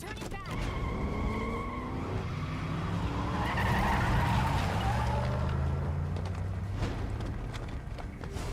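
A vehicle skids hard through a U-turn in Metal Gear Rising: Revengeance, a sustained loud tire squeal and engine roar running several seconds, swelling midway and then easing off.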